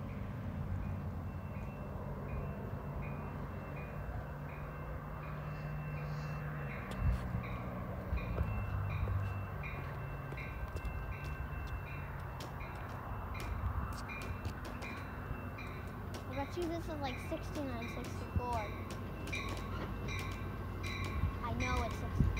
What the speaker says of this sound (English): There goes the train crossing.